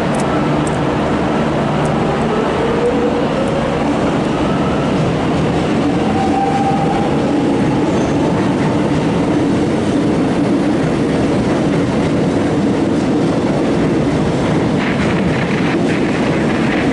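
A train hauled by locomotives N459 and A66 rumbles past steadily with a continuous heavy roar and faint high whine, wheels and cars grinding by at close range throughout.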